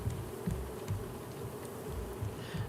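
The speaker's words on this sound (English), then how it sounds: "See, now we got the bees are buzzing," Bees in the video game Raft produce a low, continuous buzzing drone with faint pulsing swells, moderately quiet and without speech.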